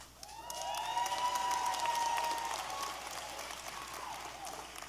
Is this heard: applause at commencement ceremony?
yes